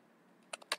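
A few quick keystrokes on a computer keyboard while code is typed, clustered near the end and moderately close after a quiet stretch with no talk.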